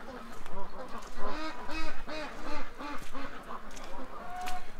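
Several ducks, four drakes and a female, quack and honk in a steady run of calls outdoors, moderately close with a soft background hiss.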